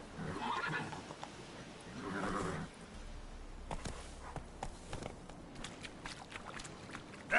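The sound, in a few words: horse Roach neighing and galloping in video game Witcher 3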